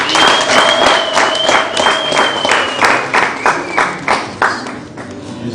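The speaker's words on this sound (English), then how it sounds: "A round of applause, ladies and gentlemen." Steady, close applause from an audience at the 4-H Zimbabwe Foundation three-year strategy launch, with clapping sustained throughout and a thin ringing tone running under it.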